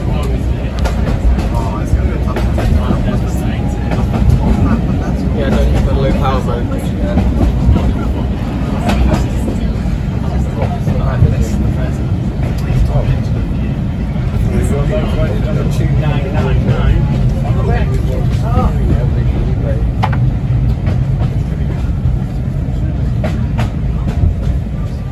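A train passes during a steam gala on the Epping Ongar heritage railway, a loud, steady rumble with wheel clatter that lasts the whole time, and voices can be heard over it.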